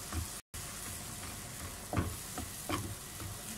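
Bone-in and boneless chicken frying lightly in a pan, a steady close sizzle with a few soft stirring scrapes over it.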